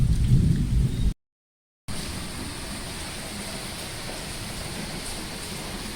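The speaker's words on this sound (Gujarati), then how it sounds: "ભરેલો વરસાદ ગાજે હજી" Steady rain hisses throughout with low rumbling thunder, broken by a short gap of silence before the downpour continues.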